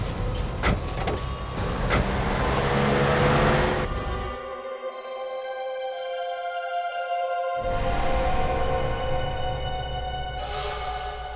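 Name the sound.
car driving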